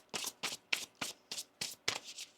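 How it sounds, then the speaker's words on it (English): A deck of tarot cards is shuffled in quick, even bursts, about eight crisp riffling rustles at a steady rhythm, close and fairly quiet, with no talking. "One more shuffle here."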